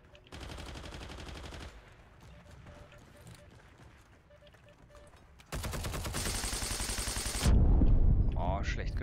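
Gunfire in the World War II shooter Heroes & Generals comes as loud, dense automatic bursts with a long rapid volley near the end, and someone talks in between.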